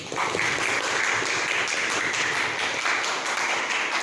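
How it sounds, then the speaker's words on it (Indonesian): A class gives applause for a student, Ananda Hasan, during a classroom lesson, producing a steady wash of clapping from a group at moderate volume throughout. "Tepuk tangan untuk Ananda Hasan"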